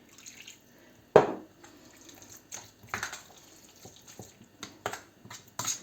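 Water splashes and trickles in short bursts into minced meat, with a loud pour at the start and several smaller splashes after, close by and without talk.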